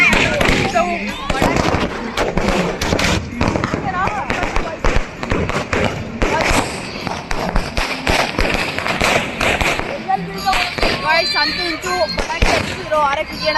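Rapid, dense bursts of crackling firecrackers going off nearby, with boys' voices and chatter mixed in throughout.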